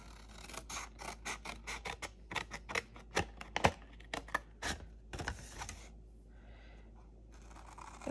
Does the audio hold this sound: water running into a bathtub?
no